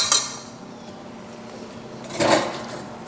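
A whisk is rapped against a mixing bowl twice to knock lemon zest off into a lemon bar mixture, two sharp metallic clinks with a quiet pause between them.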